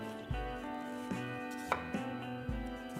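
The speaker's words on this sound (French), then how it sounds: "on coupe en petites tranches et ça va nous faire une belle julienne" A knife cuts a peeled bell pepper into thin julienne strips on a board. About five crisp, evenly spaced chops ring out close and clear, with no talking.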